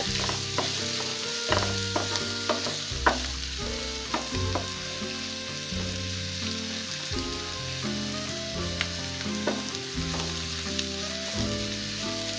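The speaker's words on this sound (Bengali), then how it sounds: "এখন আমি পেঁয়াজগুলো হালকা বাদামি কালার করে ভেজে নেব।" Chopped onions and green chillies fry and get stirred in a pan for vegetable noodles, a steady sizzle sitting beneath louder background music, with no speech.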